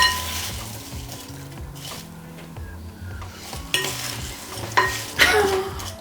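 Apple slices gently stirred and coated in a bowl, with soft scraping and clinking against the bowl under a steady, low background music bed, and a few sharper clinks toward the end.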